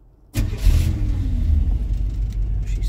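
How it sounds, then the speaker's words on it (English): A 1986 Chevy C10 pickup truck engine starts with an abrupt loud crank-and-catch, then settles into a deep, heavy rumbling idle with slight revving surges, close and alone. "She starts like she's angry,"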